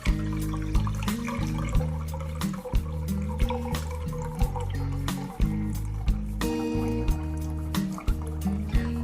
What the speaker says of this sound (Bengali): এখানে 500 চাল সেদ্ধ করার জন্য আমরা এখানে জল দিয়ে দিচ্ছি।